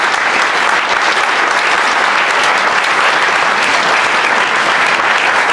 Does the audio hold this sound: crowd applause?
yes